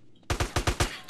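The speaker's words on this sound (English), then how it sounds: "Just shoot the enemies." Rapid burst of gunfire in GTA San Andreas, five or six loud, close shots in quick even succession after a brief quiet start.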